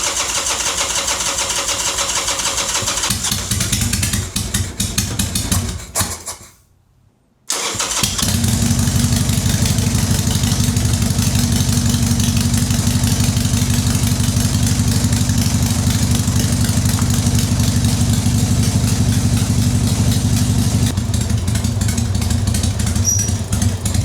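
Rebuilt Harley-Davidson Sportster V-twin cranks over and fires, stalls briefly after a few seconds, then restarts and settles into a loud, steady, lumpy idle that runs close up for the rest of the clip.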